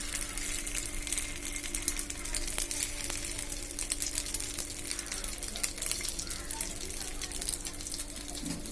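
Oil crackles and sizzles steadily as an egg-coated chicken patty fries in a pan, with dense popping spatter continuing throughout at moderate volume.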